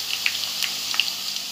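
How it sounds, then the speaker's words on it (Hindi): Washed spinach tipped into a pan of fried onion, chilli and potato sizzles with a soft, steady hiss, broken by a few sharp crackles and pops, close by and fairly quiet. "जो हमने काट कर धोकर रख ली है वो पालक की भाजी हम इसमें डाल रहे हैं।"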